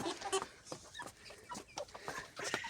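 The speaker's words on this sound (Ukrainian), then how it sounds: "Ось ми запустили наших птахів." Chickens cluck and chatter softly after being let into a homemade outdoor run, a flurry of short scattered calls close by with no talk.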